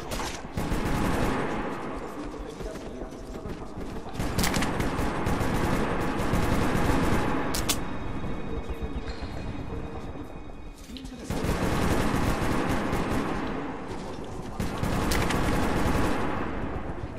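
Sustained machine-gun fire in Metro 2033 Redux, dense bursts of automatic shots rolling on and off across the whole stretch with loud rumbling echo, no talk.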